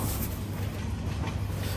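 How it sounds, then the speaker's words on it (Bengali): Loud, continuous rushing roar of the Panchagarh Express train passing at speed, a dense rumble filling the whole moment without pause. "পঞ্চগড় এক্সপ্রেস ট্রেনটি আমার ট্রেনটিকে অতিক্রম করছিল এবং সে যথেষ্ট গতিতেই ছিল"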